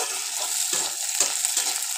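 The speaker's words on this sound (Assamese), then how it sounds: "অকণমান ভাজি লৈছোঁ, তাতে শুকান মাছকেইটা দি দিলোঁ।" Dried fish sizzles in hot oil in a pan for an Assamese bitter gourd and dried fish gravy. The steady, close frying hiss is broken by a few soft stirring scrapes.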